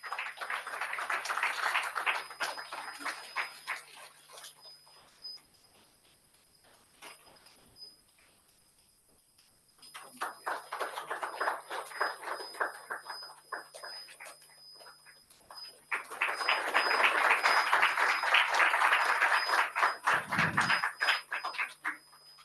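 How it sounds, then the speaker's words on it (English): Audience applause at a souvenir opening ceremony during an international conference, with dense bursts of clapping that swell, drop to a near lull, then return louder toward the end. "Please give a big round of applause."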